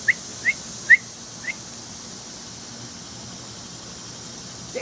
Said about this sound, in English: When you whistled, he opened his mouth.